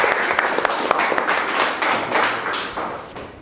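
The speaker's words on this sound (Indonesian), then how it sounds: "Kasih aplaus." A classroom of students applauds during a physics lesson on temperature and thermometers, a short burst of scattered, uneven claps and taps that thins out after a few seconds, close and lively.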